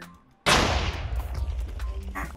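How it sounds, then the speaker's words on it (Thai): In Minecraft, a sudden loud explosion booms and then rumbles into a long, decaying crackle, with no talking. "เมื่อกี้ระเบิดแรงไปหน่อย"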